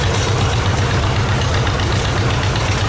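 A vintage John Deere tractor engine idles at a steam power show in Sycamore, Illinois, its low, loud, steady chugging throb running unbroken and close by, with no talk over it.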